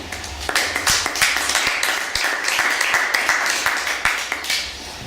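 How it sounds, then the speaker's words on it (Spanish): Applause from a seated audience at a philosophy and liberalism conference, a burst of clapping with distinct individual claps, fairly close, lasting about five seconds. "Ruego un fuerte aplauso para ellos"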